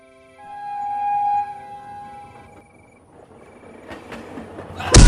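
A train's long horn sounds, then fades into a building rumble of a passing train that swells loudly at the end.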